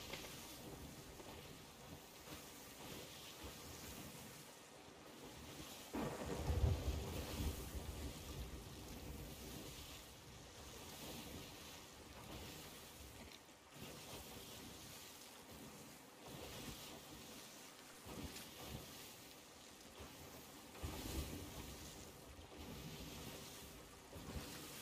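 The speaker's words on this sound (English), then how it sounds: "We are in the storm, right?" A stormy sea in the pirate game Sea of Thieves: waves wash and surge continuously under gusting wind, with a heavier crash of water near the six-second mark.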